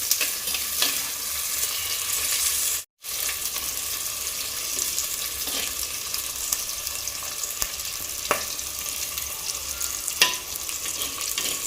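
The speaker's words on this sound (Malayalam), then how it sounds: "ആദ്യം നമ്മൾ ഉള്ളി, ഇഞ്ചി, പച്ചമുളക്, വേപ്പില നന്നായി നമുക്കൊന്ന് ഇളക്കാം." Onion, ginger, green chili and curry leaves being stirred in a frying pan for a fish curry, giving a steady sizzle with scattered scraping clicks of the spoon, close and without talk, broken by one brief gap of silence.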